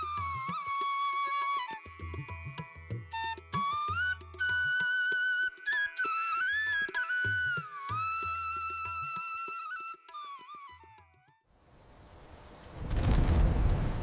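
Thunder rumbles loudly with rain in a village cartoon story, a brief broad rumble that bursts in after background music fades.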